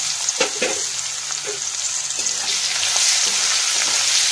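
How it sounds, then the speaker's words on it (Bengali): Sliced onions frying in hot oil for a Bengali fish head muri ghonto, a steady bright sizzle with occasional stirring clatters of the spatula, close and continuous without voices. "পেঁয়াজটা ভাজা হয়েছে অনেকটা"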